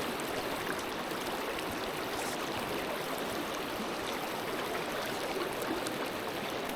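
Fast water of the Savage River rushes in a steady, dense hiss, close and unbroken, with no voices over it.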